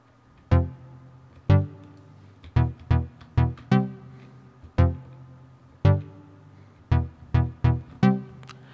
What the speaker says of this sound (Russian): Это очень классные аналоговые звуки и очень достоверные.